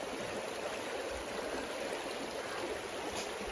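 Steady broadband rush of flowing water at a cold plunge spot, a continuous stream-like wash with no breaks and no voices.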